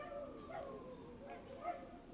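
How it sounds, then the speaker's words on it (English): Several dogs bark and yip at a distance, producing a few faint, short barks over a quiet indoor background hum. "while the dogs bark at the blambulance"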